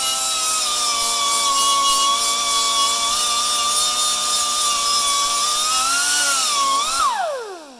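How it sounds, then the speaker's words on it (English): A high-pitched power tool whines steadily as it grinds a burr off a metal piece for a GMC motorhome body support, loud and close, then spins down at the end. "Just taking the burr off."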